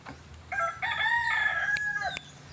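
A bantam rooster crows once, close by, a high strained cock-a-doodle-doo lasting about a second and a half over quiet background.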